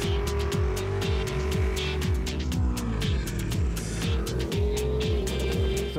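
A Polaris off-road vehicle pulls away across desert terrain of sand, rock and hard-packed ground, its engine revving steadily and loud up close, with repeated gear-like pitch sweeps throughout and no talk.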